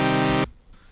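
Synth chords that feed a vocoder, one dense sustained chord held briefly and cut off sharply, then near silence.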